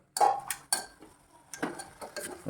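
A spoon works washed rice around a cooking pot over a raised flame, giving a few clinking, scraping strokes in short bursts separated by brief pauses, close and fairly loud with no voices.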